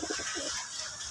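A domestic pigeon coos up close in a home loft at Shantipur, giving a quick run of soft, throaty rolling notes over faint background hiss.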